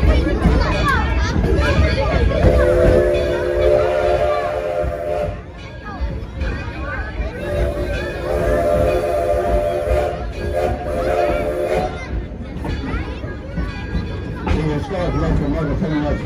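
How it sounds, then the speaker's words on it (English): The Edison No. 1 steam locomotive, assembled by Henry Ford in 1932, sounds two long, sustained whistle blasts over a steady hiss and rolling train noise, while a crowd chatters throughout. "Locomotive coming up today is the #1 Edison, a conglomeration of locomotives that Henry Ford put together in 1932"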